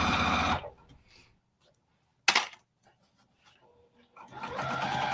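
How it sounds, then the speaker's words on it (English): A sewing machine stitches a seam on a soft vinyl iPad case, backstitching at the end. Close whirring bursts at the start and finish are separated by a near-silent pause broken by a single sharp click. "She'll backstitch a little when she comes up to her stopping point, just so that the seam doesn't pop."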